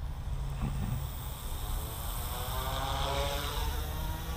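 An OMP Hobby M2 RC helicopter spools up with a loud, steady whirring drone and a rising whine that holds throughout, with no talking.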